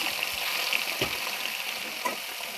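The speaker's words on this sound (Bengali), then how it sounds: "এবার একটা করে মাছ ছাড়বো, পুরো কড়া করে ভাজবো, পুরো লাল লালভাবে।" Fish pieces fry in hot oil in a wok for a mustard fish dish, giving a continuous close hiss of sizzling fat with a few low knocks from the pan.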